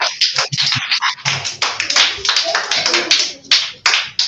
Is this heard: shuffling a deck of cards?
no